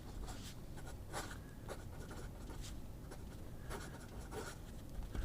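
A fountain pen with a number 6 medium nib moving across paper, soft scratchy strokes with slight feedback in irregular short bursts, close but faint, with no talking.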